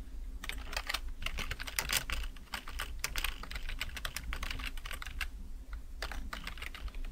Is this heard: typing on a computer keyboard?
yes